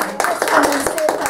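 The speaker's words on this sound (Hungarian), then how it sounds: "Szerintem tapsoljuk meg őket." Several people clap together at a movement meeting, a quick irregular patter of hand claps heard close by, mixed with voices talking over it.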